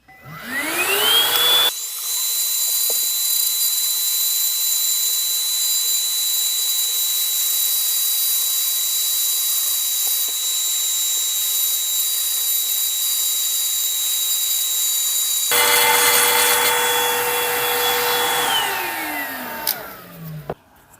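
A rotary tool spins up to a steady high whine while a bit carves a Civivi Appalachian Drifter 2 pocketknife, holding a constant loud tone for a long stretch before winding down at the end.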